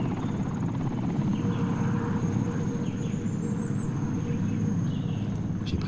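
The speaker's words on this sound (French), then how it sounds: "et là l'hélico est arrivé" A helicopter circles overhead above a forest clearing, a loud, steady, rumbling rotor drone that fills the whole stretch without fading.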